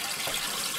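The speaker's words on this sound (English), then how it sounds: "Flush it." A toilet flushing with a donut dropped in the bowl, a steady close rush of water running throughout without any voices.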